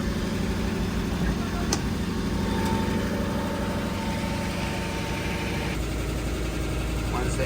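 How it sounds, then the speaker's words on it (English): A 1959 Edsel Villager station wagon's engine idles steadily with a low, continuous rumble throughout, close by and uninterrupted, with no distinct revving. "The engine warms up and idling goes down."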